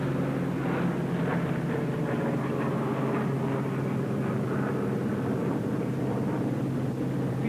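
A 1943 P-47 fighter plane taking off: a loud, continuous radial-engine roar with dense broadband rumble, holding steady and close throughout, with no voices.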